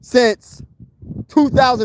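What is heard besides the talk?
None of the usual background noises is heard.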